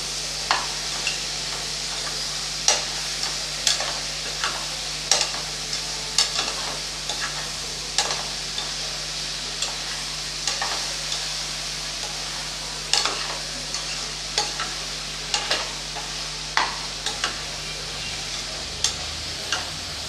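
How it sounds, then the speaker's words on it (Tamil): Drumstick and broad beans sauté in a pan of sambar vegetables, a steady sizzle with frequent spoon scrapes and stirring clicks at an even rhythm, close and alone with no voices. "சேர்த்து நல்லா ஒரு ரெண்டு நிமிஷத்துக்கு நல்லா வதக்கி விட்றலாம் எல்லா காயையும்"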